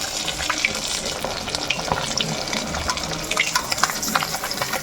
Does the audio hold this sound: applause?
no